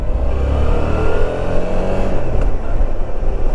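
A Suzuki 650 V-Strom trail motorcycle accelerating on the road, its engine a loud, close, steady drone with rising revs and some wind rush, and no talking.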